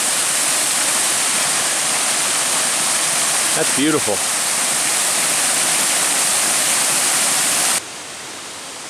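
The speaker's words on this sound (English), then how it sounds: "Made it over here across to this other waterfall." A waterfall along the Chuck Keiper Trail roars steadily and loudly throughout at close range, with one brief spoken remark over the rush of water near the middle.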